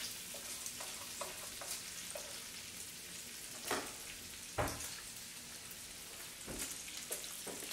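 Bacon and bagels fry on a griddle with a soft continuous sizzle, punctuated by a few sharp scraping and spatula-like bursts; no voices.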